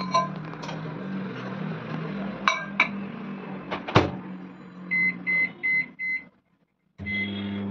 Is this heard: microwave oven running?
yes